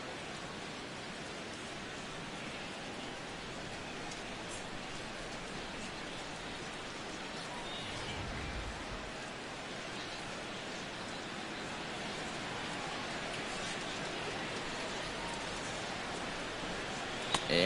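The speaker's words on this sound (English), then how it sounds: "And this rain is intensifying now." Steady rain falls in an MLB 16 The Show baseball game, a dense, even hiss of drops washing across the field, continuous and fairly loud throughout, with no voices over it.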